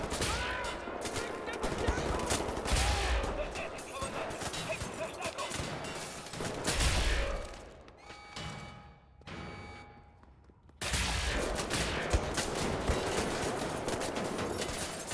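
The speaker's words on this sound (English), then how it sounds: "Focusing our fire on the" Sustained video game gunfire aimed at a giant tank enemy in Wolfenstein: The New Order, dense and loud, pausing briefly in a quieter stretch before resuming, with talk over it.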